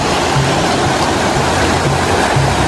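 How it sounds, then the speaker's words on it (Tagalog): Strong river current rushing past on a mountain trek, a loud, dense and unbroken roar of churning water, close by and alone. "Medyo malakas-lakas ang agos ng tubig dito."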